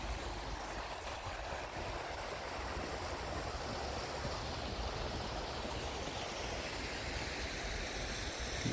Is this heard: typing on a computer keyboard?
no